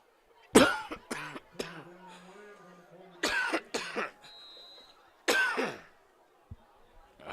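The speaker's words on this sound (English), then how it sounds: "The out-of-nowhere coughing fit." A man breaks into a sudden coughing fit during a high school varsity football live stream, with several harsh, explosive coughs in clusters separated by short pauses and some throat clearing, close and loud.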